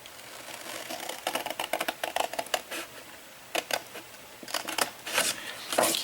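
Scissors snip repeatedly along a score line in paper while making a box bag, with quick bursts of crisp cuts, pauses between them, then more snipping, close and clear.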